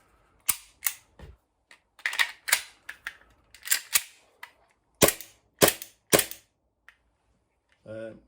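Airsoft gun used as a realistic film, theatre and TV production prop, firing a string of sharp, close cracks in irregular bursts and singles, with brief mechanical clicks between shots and a short voiced sound at the end.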